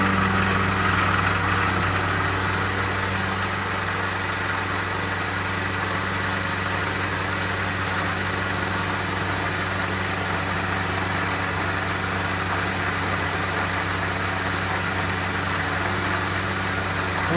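A metal lathe with a tool post grinder turns at 1450 RPM, giving a steady, moderately loud mechanical hum with a constant drone throughout and no speech.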